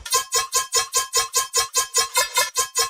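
A short synth sound repeats with a spectral blur effect, giving a smeared, airy tail. About eleven even pulses in a steady fast rhythm play alone and close.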